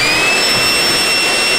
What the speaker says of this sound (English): Give it a quick little vacuum.